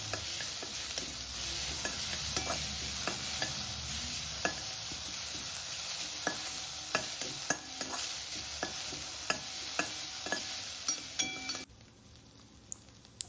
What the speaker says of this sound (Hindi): ये हमने बारीक कटी हुई पत्ता गोभी डाली है इसमें। बहुत ज़्यादा नहीं पकाना है